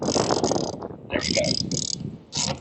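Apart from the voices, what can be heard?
lag bolt being driven in for an antenna bracket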